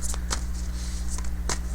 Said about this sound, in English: Let's shuffle the deck for the DM side.